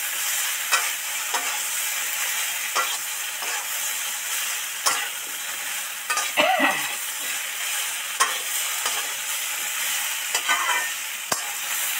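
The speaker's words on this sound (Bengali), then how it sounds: "নেড়ে চেড়ে ভালো করে মশলাটা আলু সয়াবিনের সাথে ধরে ধরে মিশিয়ে দেবো।" Spiced potato and soybean curry being stirred in a hot pan, with a constant sizzle broken by repeated scraping strokes of the spoon. The sound is close and steady, and no one speaks.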